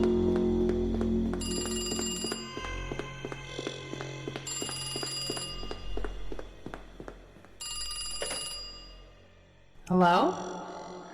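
An old-style telephone bell rings loudly in repeated long bursts with short gaps, ending as a voice briefly answers.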